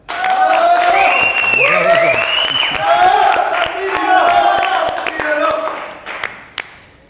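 Studio audience applause for a guest on a talk show, loud close clapping with cheers and whoops, tapering off near the end as a voice speaks over it.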